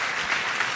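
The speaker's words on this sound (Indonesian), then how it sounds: "Kasih tepuk tangan yang meriah untuk Tuhan Yesus." A church congregation claps for Jesus during a sermon, a brief dense burst of applause heard at moderate distance with no speech over it.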